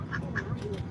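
A pet duck quacks several times in quick succession, short nasal calls close to the microphone in a quiet room.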